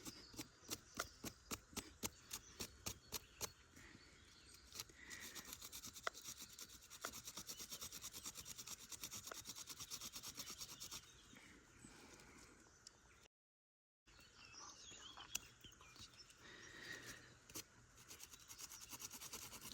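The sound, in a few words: sanding wood with a flint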